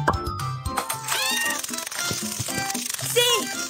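A cartoon kitten meows several times in a BabyBus pet care app game, with short high cries over light game music and effects, and a voice speaking at points.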